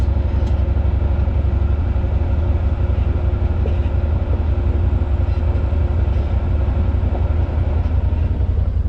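Yamaha Wolverine X4 side-by-side creeping along at a crawl with its tires slipping, producing a steady, loud low engine drone and drivetrain rumble that holds constant throughout, with no talk.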